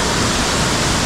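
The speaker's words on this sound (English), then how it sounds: "you have the flowing water with that pretty sick waterfall" Santa Rita Falls waterfall in Cocora Valley, Salento, with flowing water below: a steady, loud broadband rush that fills the whole clip without pause and with no voices.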